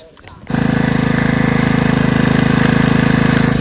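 A loud pesticide sprayer engine suddenly starts up in a Devgad Hapus mango orchard and runs with a steady, rapid pulsing chug, close and continuous until the end.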